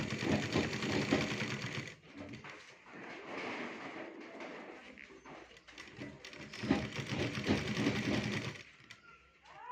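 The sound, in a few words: sewing machine stitching fabric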